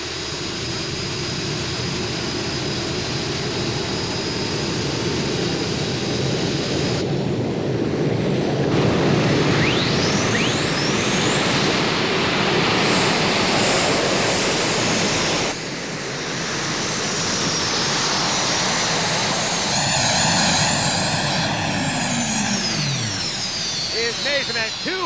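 An unlimited modified tractor roars through a full pull at a truck and tractor pulling event: a loud, sustained engine howl with rising and falling pitch sweeps under crowd noise and a running announcer commentary.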